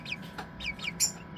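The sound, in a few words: pheasant-chicken and Serama chicks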